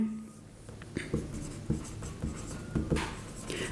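Pen writing a journal entry by hand on paper, with a few distinct scratchy strokes and taps spaced out irregularly, close and fairly quiet, no talk.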